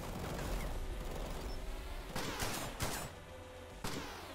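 Shotgun blasts from a pump-action shotgun in the PC game Bonding Ambivalence, a few sharp broadband bursts spaced around two seconds apart, loud over a dense, busy game background with no talk.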